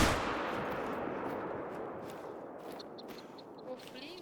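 A single loud rifle shot in the hunting game theHunter: Call of the Wild at Silver Ridge Peak, cracking sharply at the start and then rolling away in a long, fading outdoor echo.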